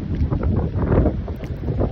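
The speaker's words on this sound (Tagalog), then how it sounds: "Malakas yung hangin, sobra." Strong coastal wind blasts across Kapurpurawan Beach in Ilocos Norte, producing a loud, rough, fluctuating rush of microphone buffeting that swells and eases in gusts.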